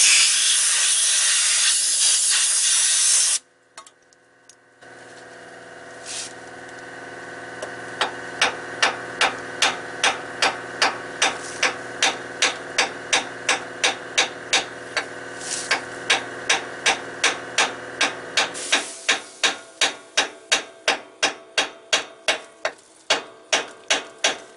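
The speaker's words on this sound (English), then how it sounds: "before I knock this pump loose and pull it off" A water pump being knocked loose on a 1997 Detroit Series 60 engine: an opening hiss, then a long run of regular, sharp metallic hammer blows, roughly thirty close strikes in steady rhythm.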